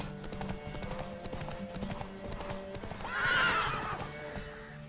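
In The Witcher 3 video game, a horse's hooves clip-clop in a steady rhythm, then a loud close whinny rises over them, with music and other game sounds underneath.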